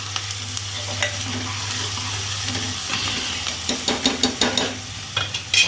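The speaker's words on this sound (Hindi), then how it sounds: "मैंने भूनना शुरू कर दिया है प्याज काले चने के लिए" Onions frying in a home kitchen pan for a black chickpea dish, with a steady low sizzle and hiss broken by a series of stirring scrapes and clinks toward the end.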